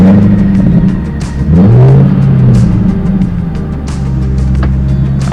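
A car engine cranks and catches, then revs with a rising surge before settling into a steady idle, loud and close with no talking, before a drive to the car wash.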